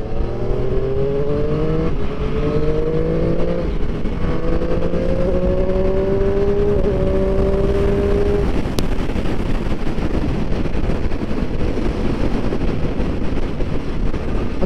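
A Triumph Street 765RS motorcycle pulls away hard in second gear, the engine note climbing through several rising sweeps before settling into a loud, wind-buffeted roar as it speeds on.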